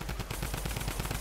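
Drum gun in Fortnite firing a rapid burst of shots, a dense continuous automatic rattle up close that fills the whole short moment.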